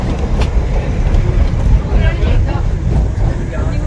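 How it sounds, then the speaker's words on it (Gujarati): Loud, continuous rumble and rattle of a moving train, heavy low-end noise with clacking running throughout. "આ અમારી ટ્રેન છે"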